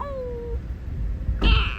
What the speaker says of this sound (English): Hi, Millie the cat.